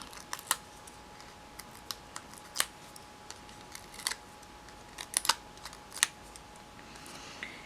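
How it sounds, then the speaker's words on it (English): Backing peeled off adhesive dimensionals while making a stamped golf card and tag, heard as small sharp crackles and ticks scattered irregularly over a quiet background, close up and without voices. "Then I'm going to take the backs off of these dimensionals"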